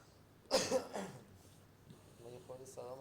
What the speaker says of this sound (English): Excuse me for the coughs.